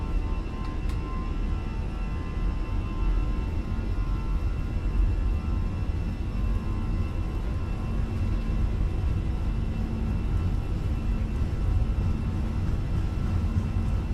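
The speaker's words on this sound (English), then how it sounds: "Takeoff thrust set." Airbus A320 on its takeoff roll at takeoff thrust in Microsoft Flight Simulator 2020: a steady, broad engine roar with low rumble, constant and unbroken throughout, no voices.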